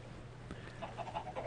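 Chickens in the Minecraft video game cluck in a short run of quiet, rapid clucks over a steady low background hum, with no talk.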